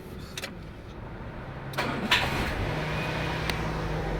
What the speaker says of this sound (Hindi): चलो हमारे गाड़ी स्टार्ट करें।